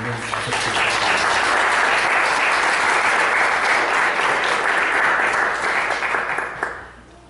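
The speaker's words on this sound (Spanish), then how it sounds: "yo pido un fuerte aplauso, por supuesto, para ella" Loud, sustained audience applause at an academic colloquium, a dense wash of clapping that holds steady for several seconds before fading out at the end.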